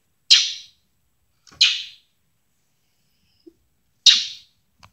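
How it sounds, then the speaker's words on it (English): Two rescued baby mockingbirds, found in the middle of a road, give three sharp, loud begging chirps, each briefly rasping, spaced apart with quiet gaps between and no talk. "And now we got two mockingbirds that were found in the middle of the road."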